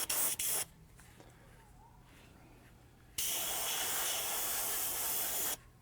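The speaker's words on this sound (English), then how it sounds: "this will basically put a primer coat on" An aerosol spray can lays a primer coat onto model locomotive truck side frames, giving loud, steady hissing bursts: a couple of quick spurts, a pause, then one long continuous spray, up close.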